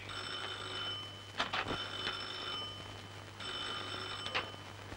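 A telephone rings in a 1970 Turkish film, giving two bursts of bright, rapid electric bell trills separated by a pause, over a steady low hum.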